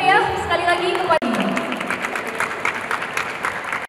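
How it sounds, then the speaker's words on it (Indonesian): Crowd applause welcoming an Indonesian artistic gymnast after her Olympic event. A speaking voice opens the moment, then a short break gives way to a steady burst of many hands clapping under continuing talk. "kita berikan tepuk tangan yang meriah sekali lagi"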